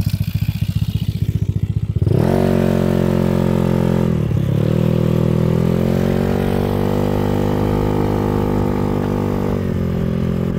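Motorbike with a 212cc four-valve engine revving hard and running at speed, loud and close, a rapid idle-like putter rising into a steady high drone with gear-shift dips and wind rush, no talking.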